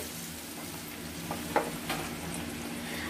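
Masala of red chili powder, turmeric and ground tomato puree for Punjabi-style rajma fries softly in a pan, a low sizzle with a few brief stirring scrapes near the middle.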